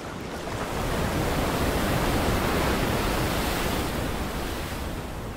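Stormy ocean waves crash and surge against rocks in False Bay, a loud, continuous roar of churning surf with wind, heard alone.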